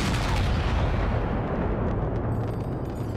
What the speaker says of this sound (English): At 4:10, cannon opened fire on the rebels.